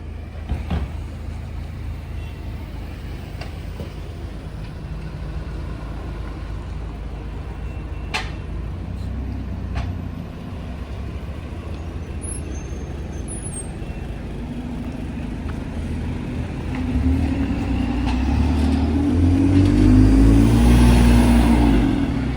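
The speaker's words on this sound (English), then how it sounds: "Let's get this bus leaving, shall we?" A London double-decker bus on route R6 pulls away from Orpington Station, its low engine drone steady at first, then swelling louder as it accelerates near the end, with a couple of brief sharp clicks along the way.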